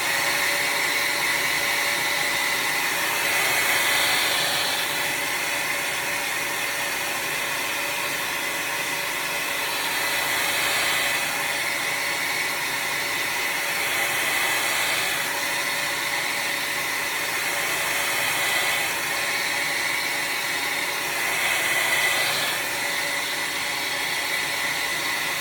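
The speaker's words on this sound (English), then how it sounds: "Your blow dryer does not have to be on a high heat" A blow dryer runs continuously while drying hair, giving a steady, fairly loud rushing whoosh with a faint whine that swells and eases slightly as it moves, with no talking.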